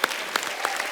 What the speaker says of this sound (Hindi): और शिखर पाजी के लिए भी जोरदार तालियां।